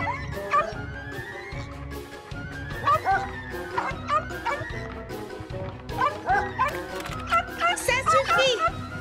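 A cartoon dog barks and yips indoors in a burst of excited yaps and whimpers, close and lively, with children's voices and talking mixed in.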